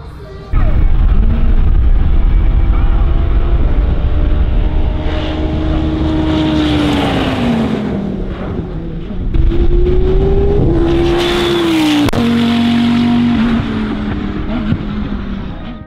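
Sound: Audi R8 race car speeding down Motopark backstretch

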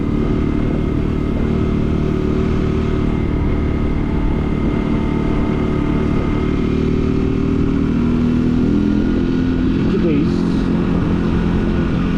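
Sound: small motorcycle engine riding

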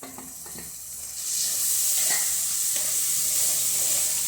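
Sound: tomatoes added to sizzling spice masala in pan

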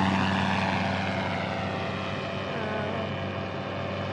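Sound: paramotor flying past overhead

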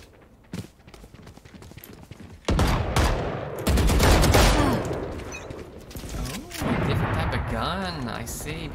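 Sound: Operator sniper rifle gunfire in Valorant video game

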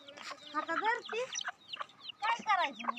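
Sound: chickens clucking

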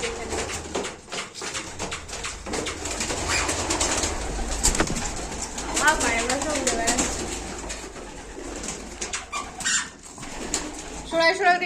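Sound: pigeons cooing

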